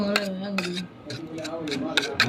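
A spoon clinks against a cup or glass as powder is stirred into milk, giving several quick, bright metallic taps at uneven intervals, with someone talking over them.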